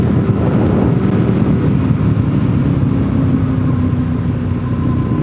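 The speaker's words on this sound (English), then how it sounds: "some motorbikes found my back road." Motorbike engines rumble steadily at close range on a mountain back road, a continuous low drone with some wind buffeting the microphone.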